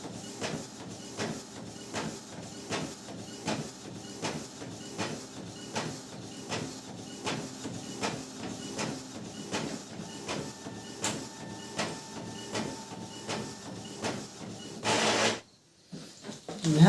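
An Epson L360 inkjet printer runs a page, giving a steady series of rhythmic mechanical clicks and shuttling whirs at moderate level, ending in a brief louder rush and a short pause.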